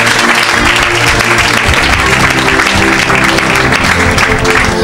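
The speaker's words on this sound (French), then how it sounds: "Acclamez pour Jésus" A church congregation claps and cheers for Jesus during a deliverance service, a dense, steady wash of applause filling the whole stretch at close range, with faint voices mixed in.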